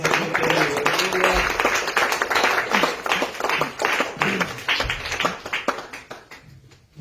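Church congregation clapping hands as an offering to God, a dense, sustained burst of many hands that thins and fades toward the end.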